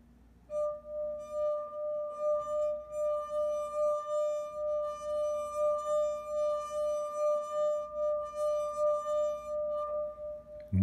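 Rubbing a wet fingertip around the rim of a glass holding the most water draws a low, pure ringing tone that throbs gently with each pass, sustained and close for about ten seconds.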